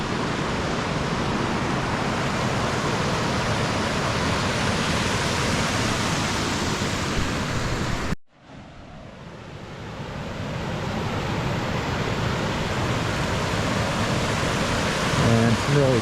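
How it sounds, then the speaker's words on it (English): Water roars down rocky cascades near Oakhurst in springtime: a dense, constant rushing wall of sound, briefly cut off midway, then returning just as loud and steady. "this water is just roaring down this whole thing"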